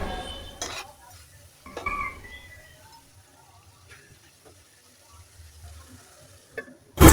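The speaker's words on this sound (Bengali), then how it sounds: "তো মাংসটা নেড়ে চেড়ে সব মশলার সাথে ভালোভাবে মিশিয়ে নেব।" Chicken stirred through spices in a pan, heard as sparse scrapes and clinks of a spoon over a faint, quiet sizzle, with near-silent gaps between strokes and a sharp burst at the very end.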